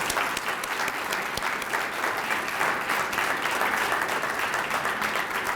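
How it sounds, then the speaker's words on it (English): A final round of audience applause for the class of 2022 Hall of Fame members at a state athletic directors' induction ceremony, dense and sustained clapping from a large crowd, even and unbroken throughout. "please join me in giving the class of 2022 Hall of Fame members a final round of applause"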